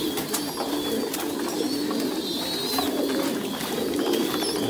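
White Thai Titan pigeons coo in a steady, overlapping chorus close by, with a few sharper chirps above the low murmuring, and no voices.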